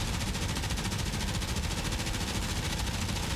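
An aircraft machine gun in a flight simulator game fires in one long, continuous rapid burst, dense and loud from start to finish.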